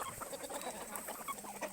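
Chickens cluck continuously in a farmyard, several birds overlapping in a steady, moderately close chatter with a constant background hum and no speech.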